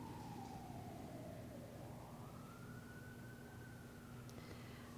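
A distant siren wails faintly, its pitch slowly dipping then rising, over a steady low background rumble.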